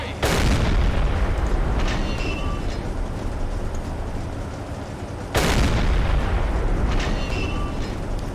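Two heavy booming shots from a U-boat deck gun in the Silent Hunter 3 naval game, each a loud blast with a long rumbling decay, spaced about five seconds apart over constant sea and engine noise.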